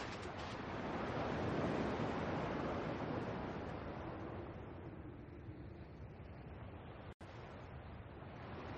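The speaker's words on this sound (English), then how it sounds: "At least the waves sound the same." Ocean waves in the video game Kingdom Hearts, a steady broad wash of surf rolling and hissing continuously, loudest early then settling into a softer, even roar, with no voices.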